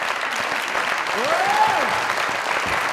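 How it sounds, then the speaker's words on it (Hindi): Sustained studio audience applause during an Eid episode of a Pakistani comedy talk show, steady and dense, with a brief rising whistle or cheer cutting through the clapping midway. "इतनी जोर से तालियां"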